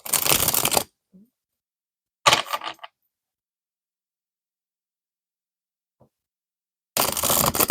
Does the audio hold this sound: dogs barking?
no